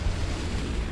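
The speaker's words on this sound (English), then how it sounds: "Satchel pops off, killing neither" Satchel charge explosion in the World War II shooter Hell Let Loose, heard as a short, loud, dense low rumble that fills the whole moment without any clear attack or decay.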